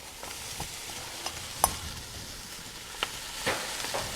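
Celery and potatoes are stirred into a flour roux in a soup pot, with a soft sizzle under a few scattered stirring scrapes and taps, quiet and close, and nobody speaking.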